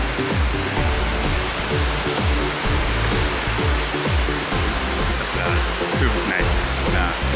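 Surf rolling onto Mỹ Khê Beach in Da Nang, a loud continuous wash of breaking waves with a steady roar throughout.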